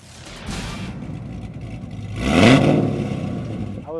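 A car engine revs at a Cars and Coffee meet, a mid-pitched whirring roar that swells to a louder rising rev midway, set against steady outdoor rumble and crowd noise.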